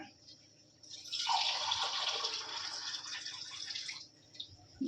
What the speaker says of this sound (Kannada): ಇನ್ನೊಂದು ಸ್ವಲ್ಪ ನೀರು ಹಾಕ್ತೀನಿ